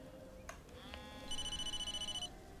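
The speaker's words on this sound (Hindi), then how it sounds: "फोन आ रहा है" A phone rings in the Blair Witch video game with a faint electronic trill that starts about halfway through and pulses quickly for around a second over quiet ambient background.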